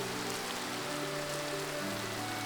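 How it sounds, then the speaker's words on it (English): Rain falls steadily as a loud, dense hiss over a low tonal music drone in the Fate Stay Night visual novel, continuous throughout, no voices. "I'm pretty sure that's the rain."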